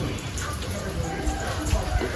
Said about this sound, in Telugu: ఇదిగో వర్షం కూడాను బాగా వస్తుందండి. చూడండి వర్షం వస్తుంది.